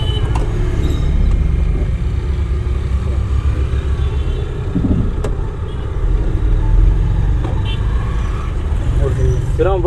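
A learner's car at a driving school labours in first gear, its engine giving a steady, strained low rumble with road noise throughout, while muffled voices sit underneath.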